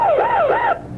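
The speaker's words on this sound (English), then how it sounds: "That was a police car, I guess," A police car siren wails past a radio studio, loud and close, its pitch sweeping up and down in two smooth cycles before cutting off abruptly.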